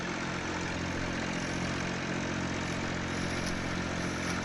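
Steady three-cylinder tractor engine drone from the 135 in Farming Simulator 19, a continuous loud low idle-like rumble with no talk over it.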